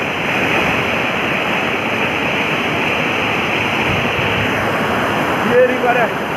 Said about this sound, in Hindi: ये रिवर है।